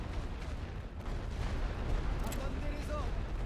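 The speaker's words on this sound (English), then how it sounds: "Let's keep firing at these troops on this flank." Battlefield rumble of artillery and gunfire in the video game The Great War: Western Front, dense low booms and crackling shots blending into a continuous roar, moderately loud, with someone speaking over it.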